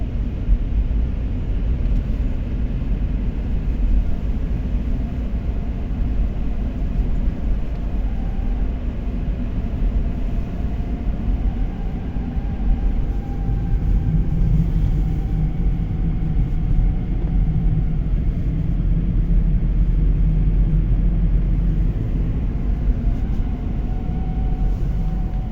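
A car driving cold in freezing weather gives off a continuous low rumble with a faint droning hum that rises midway, steady and close, with no talk.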